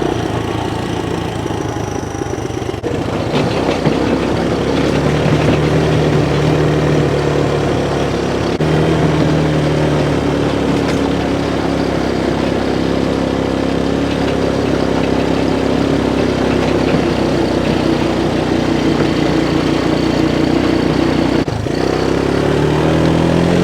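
Stihl MS-261 chainsaw fitted with a no-roll saw saver, running steadily and loud close by for over twenty seconds, engine pitch shifting slightly as it works.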